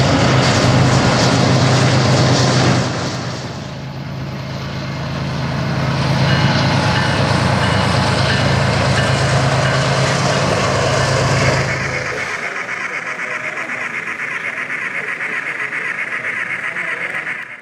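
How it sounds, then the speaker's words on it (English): A loaded coal train passes trackside on a busy mainline, a loud, heavy rumble of engines and rolling cars that swells, holds, then drops to a thinner, lighter clatter as the consist goes by. "It appears that it's a loaded coal train"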